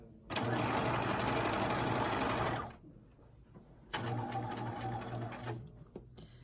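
Sewing machine running a basting stitch along a skirt panel, two loud steady bursts of rapid mechanical whirring separated by a brief pause.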